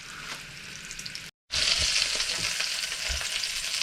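Beef ribs sizzle and spit in a hot pan, a bright crackling hiss that cuts out for a moment and resumes louder.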